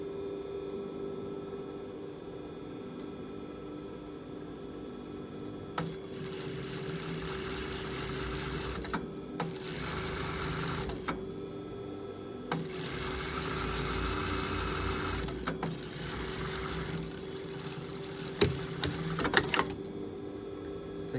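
Sewing machine stitching a sleeve seam on a tailored jacket, several short whirring runs of rapid stitching separated by pauses over a steady motor hum, close by with no talking.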